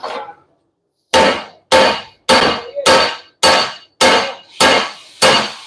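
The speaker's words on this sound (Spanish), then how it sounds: "Remato, martillo." A hammer strikes the welded edges of an Isuzu FVR leaf spring eight times in a steady rhythm, each blow a loud, close metallic clang with a short ringing decay, after a brief pause at the start.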